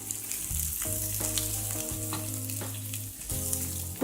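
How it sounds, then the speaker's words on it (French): Small pieces of sausage sautéing in a hot pan, a steady dense sizzle with frying crackle throughout, close and continuous with no voices. "Alors, on fait revenir les petits morceaux."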